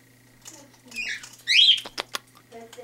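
An Amazon parrot squawks indoors, giving a few short, harsh rasping calls and clicks in uneven bursts, close and moderately loud, with faint human sounds between.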